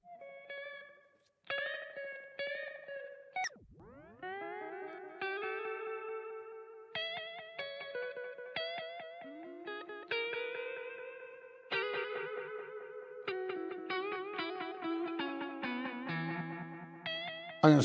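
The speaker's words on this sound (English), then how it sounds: "So now we're just hearing the echo." Wet-only echo effect from the Outer Space 2 iOS app, with plucked synth-like tones repeating in decaying echoes that stack into a steady, shimmering tape-delay pattern, clear and alone.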